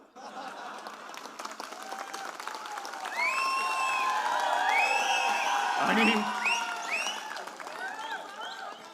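Crowd at a political rally for the Lok Sabha election applauding and laughing, loud sustained clapping swelling mid-clip with cheers and chuckles over a speaker's voice, then easing.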